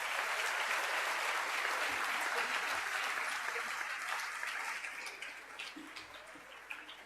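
Sustained crowd applause at a senior school prizegiving ceremony, a dense even patter of many hands that gradually thins and fades toward the end.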